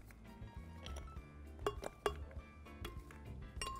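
Frozen ice and chunks of frozen fruit clinking into a container for a strawberry and blueberry smoothie, a quiet, irregular run of hard clicks and taps, a few sharper knocks standing out.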